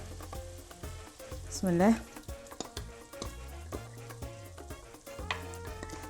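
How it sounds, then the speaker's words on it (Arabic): Crushed tomatoes are poured onto onions frying in a pan for a meat lasagna with béchamel, setting off a hissing sizzle that swells briefly. A short spoken phrase and background music run alongside. "توا باش نصب عليه الطماطم المهروشه"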